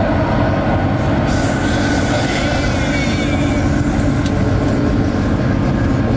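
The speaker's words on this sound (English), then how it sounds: "You can see the light in front now, as the train is going outside the underground section." Klang Valley rail train leaving its underground section, loud continuous rumble of wheels on track with a faint metallic squeal, steady and close throughout with no talk.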